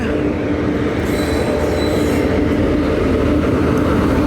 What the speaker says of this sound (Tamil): கேரளா எக்ஸ்பிரஸ் யாரோ செம ஸ்பீடாக வராருங்க